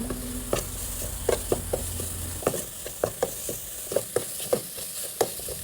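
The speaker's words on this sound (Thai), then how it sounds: "เราก็จะเอาน้ำพริกน้ำเงี้ยวลงไปคั่วกับหมูสับก่อนนะคะ คั่วให้พอมีกลิ่นหอม" Nam ngiao chili paste and minced pork stir-fried in a pan, a steady sizzle broken by repeated sharp scrapes and clacks of a spatula at an uneven rhythm, close and fairly loud with no talking.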